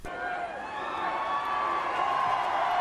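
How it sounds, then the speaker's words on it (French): A jubilant crowd at the 2022 Canadian Grand Prix, a dense wash of distant cheering and whoops that swells gradually louder, heard alone without talk. "La foule en liesse."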